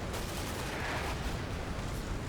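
Bursts of AK-74 rifle fire in a Cold War combat video game, a dense continuous crackle of shots that stays fairly loud and steady throughout, with no voices.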